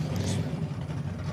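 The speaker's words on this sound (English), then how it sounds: "That V8 just sounds so crisp." A V8 drag race car revs and accelerates off the start line, a steady mid-low engine drone heard at a distance for just over a second, with no voices.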